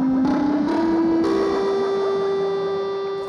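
Output Arcade sampler with a movement macro applied: a sustained synth tone with reverb that steps upward in pitch a few times, then holds and slowly fades, bright and airy with shimmering overtones.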